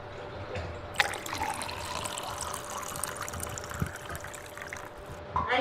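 Tamarind juice poured into a bowl, a thin close trickle of liquid that starts abruptly and runs steadily for several seconds before cutting off, with faint handling noise at the end.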